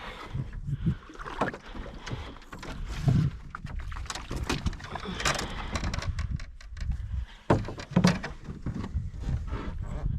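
Canoe paddled solo on the Lady Evelyn River, paddle strokes and water swishes arriving in an irregular rhythm with wooden knocks against the hull, close to the microphone and alone, with some wind buffeting.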